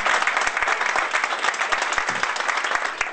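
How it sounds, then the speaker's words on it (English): A lecture audience at a TeaTalk event gives a round of applause: many hands clapping together in a full, even wash with crisp individual claps poking through, sustained throughout. "could we please give Jerry Ann a round of applause?"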